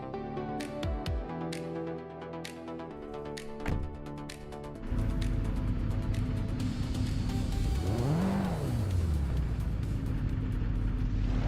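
Race cars roaring around the Ovalo de Puebla oval in a racing video game, first a few sharp clicks over a low hum, then a steady dense engine drone with one car's pitch swooping up and down as it passes close by.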